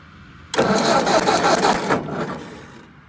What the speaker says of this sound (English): I can hear it sparking, which I couldn't hear that before.